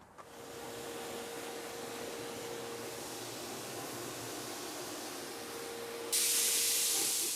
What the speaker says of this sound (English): we're simply gonna go ahead and rinse it off